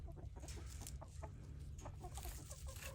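Free-ranging chickens on a homestead cluck in soft, scattered bursts over a low, steady background rumble. The sound is faint and close.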